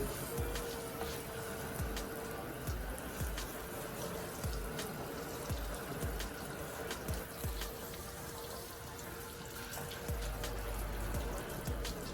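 Water from a hose rinses wax and sealant stripper off a car's paint, a continuous faint splashing and hissing spray with small irregular drips and taps, steady throughout.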